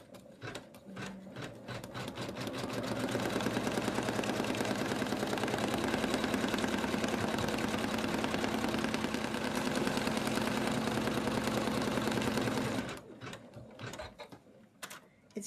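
An embroidery machine stitching the outline of an in-the-hoop snowman stocking, a loud, fast continuous mechanical chatter that runs steadily for most of the stretch, then stops, leaving a few clicks.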